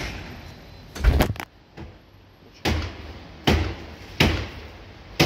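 A door is unlocked and opened with a key, giving several separate sharp clunks and thumps spaced out over a few seconds against a quiet background.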